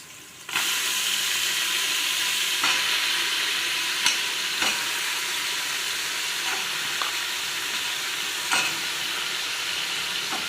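Goat head meat fries in a pan for a village-style sambar, a loud, steady sizzle broken by sharp scrapes and knocks as it is stirred at irregular intervals.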